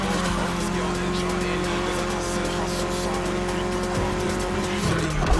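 A 1982 BMW E30 3 Series drives in the racing game The Crew Motorfest, a loud continuous engine drone with some tire squeal under game audio, and a voice talks over it.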